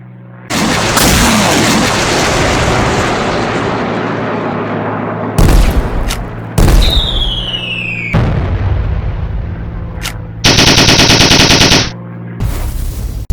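Aerial combat in the Heroes of the Sky flight game, with planes dogfighting and bombing an enemy base: dense, continuous rumbling gunfire and explosions throughout, punctuated by several sharp louder blasts and a descending whistle, no voices.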